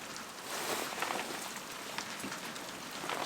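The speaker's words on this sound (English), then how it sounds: "It's a bit rainy today" Steady rain patters on a surface outdoors on a wet morning in Europe, a dense even hiss with scattered drips and no one speaking.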